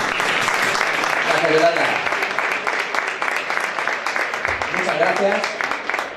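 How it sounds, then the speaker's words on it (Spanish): A theatre audience at an awards event applauds the artists with a steady, full-room clapping that holds for several seconds, and voices rise faintly beneath it at times. "muchas gracias a todos por seguir aplaudiendo a los artistas"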